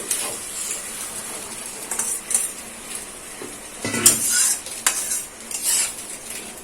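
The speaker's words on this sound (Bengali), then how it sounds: "দিয়ে ভালো করে মিক্স করে নেব।" Pointed gourd is stirred into poppy seed paste in a pan. A metal spoon scrapes and clinks against the pan in repeated strokes, close and clear, with a light sizzle underneath and no talking.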